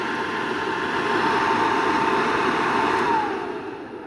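A 70-year-old car blower motor, from a 1951 Chevy, runs with a steady whirring hum and airy rush, holding level before easing off slightly at the end.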